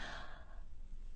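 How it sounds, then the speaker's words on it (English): A deep, slow breath drawn into the stomach so the belly pushes out, practiced for singing; a breathy, airy rush, louder at first and fading after half a second, close and alone. "So breathing into the stomach, pushing it out"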